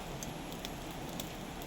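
Heavy rain falling in a forest around a hut, a steady close hiss with scattered drops pattering on surfaces, continuous with no gaps.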